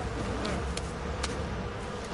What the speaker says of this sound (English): I did not know. I have not I I've not came across bees.